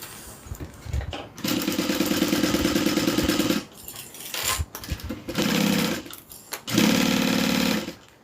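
A sewing machine stitches through two layers of cotton and two layers of vinyl for a crossbody bag with strap attachments, running in three loud, steady bursts with short pauses between them and no voices.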